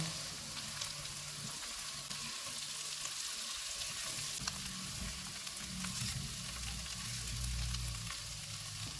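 Butter garlic potatoes cook in a pan with crushed red chili and oregano, giving a steady, fairly soft sizzle and crackle with occasional faint stirring, close and without voices.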